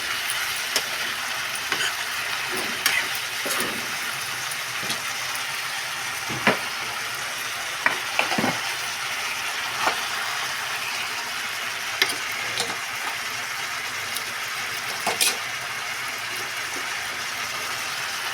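Tomatoes sizzle steadily in a frying pan, cooking down for a dish with eggplant and dried fish. A constant hiss runs throughout, with occasional soft clicks and scrapes from stirring and no voices.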